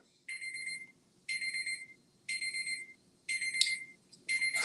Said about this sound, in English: so that's my alarm.